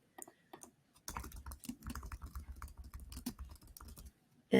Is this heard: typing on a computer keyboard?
yes